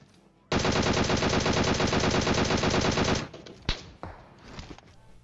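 Automatic gunfire in the mobile game PUBG Mobile, a loud continuous burst of rapid shots lasting nearly three seconds, followed by a few scattered single shots and softer game noise.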